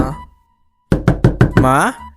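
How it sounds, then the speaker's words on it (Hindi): A toilet door is knocked on with four quick, loud raps close by, followed straight away by a voice calling out. "कार्तिक टॉयलेट का दरवाजा खटखटा रहा था।"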